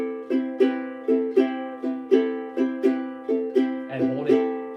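An acoustic guitar strummed in a down-up alternating pattern with a swung eighth-note feel, with crisp, evenly spaced paired strokes ringing close and clear.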